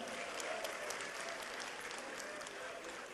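A crowd at an Azimio conference after the 2022 elections gives sustained applause for Irene Njoki, a newly elected woman leader, with dense, even clapping throughout and no breaks.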